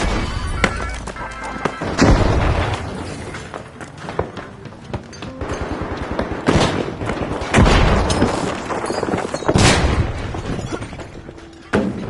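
Frag grenade blasts in The Finals video game, several loud booms with sharp crackling bursts spaced through a dense, busy mix of gunfire and action, near and forceful.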